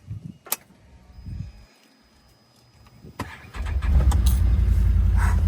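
A farm truck engine starts after a few knocks and clunks, then settles into a low, quiet, steady idle close by.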